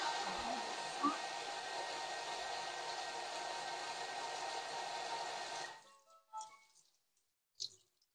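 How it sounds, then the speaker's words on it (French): A Thermomix TM6 or TM7 blends sugar at speed 6, a steady, loud whirring roar held for several seconds before cutting off abruptly, followed by a few faint clicks and knocks in near silence. "Et là, on va juste mixer vitesse 6."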